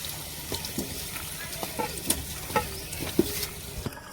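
Marinated chicken leg pieces hit a steel cooking pot for handi chicken, giving a steady sizzle with scattered stirring clinks and scrapes close by, and faint voices in the background.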